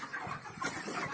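A brief burst of soft clucking from chickens in a poultry shed, faint and close with a steady background hum of the flock.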